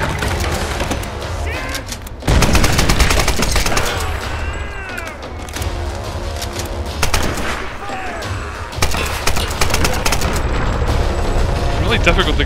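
Gunfire in Tomb Raider comes as loud, rapid volleys of shots with crashing impacts and booms, in repeated bursts across the scene, with someone talking in between.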